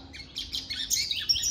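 Papa-capim seedeater singing its own distinctive song, a close, clear series of quick high chirps and twittering phrases that rise and fall over a quiet background.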